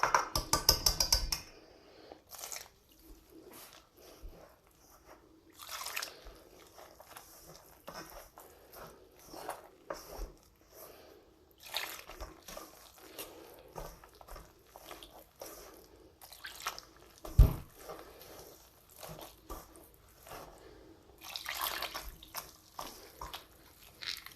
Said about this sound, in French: je vais rajouter un petit peu à la fois donc de l'eau tiède.